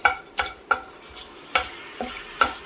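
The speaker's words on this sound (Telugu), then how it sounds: "ఆయిల్ కొంచెం వేడైన తర్వాత అందులో బిర్యానీ ఆకు, దాల్చిన చెక్క, లవంగాలు, యాలకులు వేసుకుని వేయించుకోవాలి" Bay leaf, cinnamon, cloves and cardamom frying in hot oil, with several distinct stirring scrapes and bursts of sizzle at irregular intervals, close and moderately loud.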